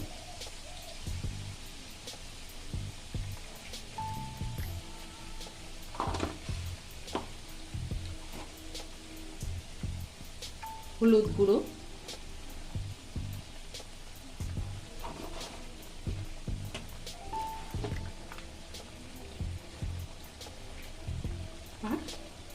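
Spices and salt sizzling in hot oil in a pan for a Bengali potato, pointed gourd and prawn curry, a steady low crackle with occasional stirring scrapes and clinks throughout.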